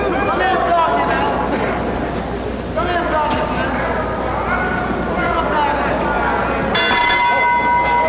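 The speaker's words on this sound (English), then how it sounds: "There's the bell ending round 4 here in the Philadelphia Arena." A boxing bell rings to end round 4 at the Philadelphia Arena during a 1963 heavyweight bout, clanging amid a loud roaring crowd, with voices over it and a final ringing strike near the end.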